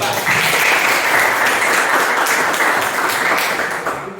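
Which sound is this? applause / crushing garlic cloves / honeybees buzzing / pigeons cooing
applause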